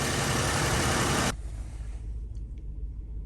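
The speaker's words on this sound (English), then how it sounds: "The engine is warming up slowly." Toyota Land Cruiser 2UZ-FE V8 engine idling steadily while warming up, a constant low rumble that drops noticeably in level partway through and then continues evenly.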